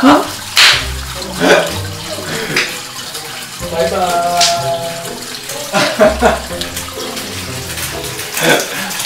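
Water runs from a shower for washing hair, gushing and splashing in bursts that start and stop, while people talk and react over it.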